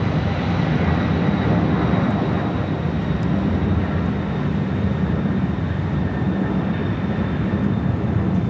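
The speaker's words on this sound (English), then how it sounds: "we do have that MD-11 taken off there on the south side" An MD-11 airliner takes off from the south side of Los Angeles International Airport, its jet engines producing a loud, steady broadband roar that holds throughout.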